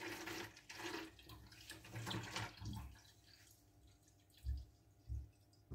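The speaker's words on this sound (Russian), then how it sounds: "постоянно вода течет, здесь кончается, тут, блин, переливается" A Homefish 300 aquarium pump pours water into a cooking pot: a quiet, steady trickle and splash runs throughout, broken near the end by a couple of low, dull thumps.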